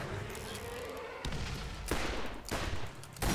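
Bursts of rapid gunfire aimed at a mini-boss in the Borderlands video game, with several dense volleys starting abruptly and separated by short pauses, loud and close.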